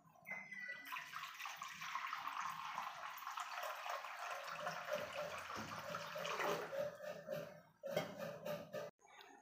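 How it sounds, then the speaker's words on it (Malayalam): Water is poured into a bowl of salted corn flour for making corn puttu, a continuous close splashing stream with brief pauses near the end and no talk. "അതിലേക്ക് വെള്ളം ചേർത്ത് കൊടുക്കാം."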